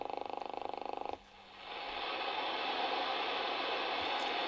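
Alinco DX-SR8-E shortwave receiver putting out static: a rapid buzzing pulse noise cuts off, then steady hiss swells up once the noise blanker is switched back on, close with no talking.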